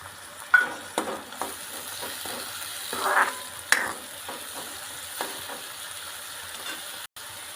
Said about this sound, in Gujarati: હાલો મિત્રો ડુંગળી હવે તેલમાં કકડી ગઈ. હવે નાખીશું ટમેટા.